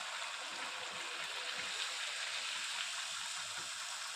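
Rice flour crackers (chekkalu) frying in hot oil, making a continuous fizzing, bubbling sizzle that stays steady and fairly soft throughout.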